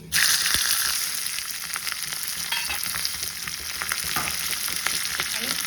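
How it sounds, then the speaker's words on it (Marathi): Cumin and green chilies sizzle steadily in hot oil in a pan for tempering, with asafoetida and mustard seeds, a dense close frying crackle that holds loud and even throughout, with no talking. "जिरे छान तडतडल्यानंतर हिरवी मिरची"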